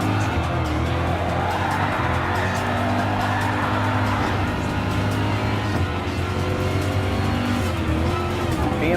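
Race car engines roar continuously in Gran Turismo Sport, with a BMW M6 Nürburgring 24-hour car in the pack, loud and sustained with brief tire squeals and skids as the cars race.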